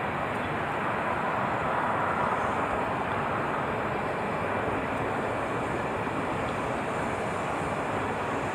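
American Airlines Boeing 787 Dreamliner departing LAX for Tokyo: a loud, constant wash of jet engine roar, dense and unbroken, with no voices.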